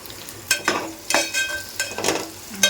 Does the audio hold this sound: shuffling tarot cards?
no